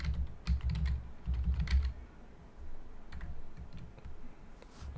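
Typing on a computer keyboard while entering a template name in a CAD program, a quick burst of clustered key clicks followed by lighter, scattered taps, close and clear with no speech.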